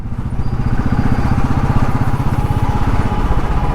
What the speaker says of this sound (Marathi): तुम्ही बघू शकता की बाईक कशी चालते, किती स्पीड घेते